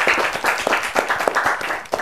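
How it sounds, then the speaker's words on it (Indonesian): A small studio audience claps for two guests arriving on an Indonesian talk show, a brief, fairly sparse burst of hand claps with distinct individual hits. "Tepuk tangan dulu."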